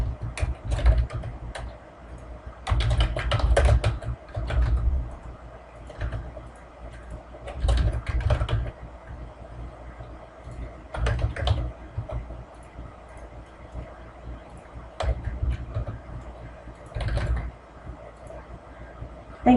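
Someone types on a computer keyboard in short bursts of quiet key clicks separated by pauses, repeating several times over a steady faint room hum.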